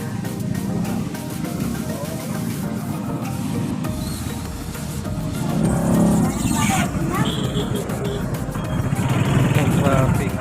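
Heavy road traffic crawls through a flooded street in Santa Rosa, Laguna during a typhoon, with continuous car and motorbike engine rumble up close, a busy crowd murmur and people talking throughout, growing louder toward the end.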